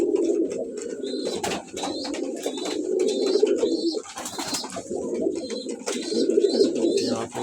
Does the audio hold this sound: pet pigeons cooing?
yes